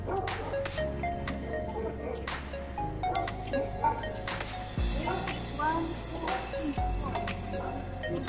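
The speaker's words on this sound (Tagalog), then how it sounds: "Aso, yun naman. Golden Retriever." A Golden Retriever barks a few times at a resort, with short yips and barks scattered under ongoing talk and background chatter.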